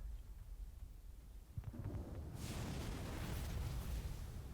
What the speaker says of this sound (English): We'll try these napalm missiles.